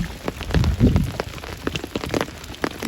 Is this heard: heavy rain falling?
yes